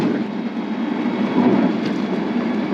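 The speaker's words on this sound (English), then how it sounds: "Back over the railroad crossing now" A 1998 Mazda B2500 truck rolls back over a railroad crossing, giving a steady, loud low rumble of road and cab noise with faint bumps throughout, no voices.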